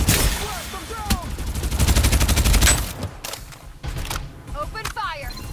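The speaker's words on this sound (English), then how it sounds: "I'm under fire!" Rapid automatic gunfire from a Farlight 84 battle royale match rattles in a dense burst, followed by scattered shots and game sound effects, with voices speaking over the action.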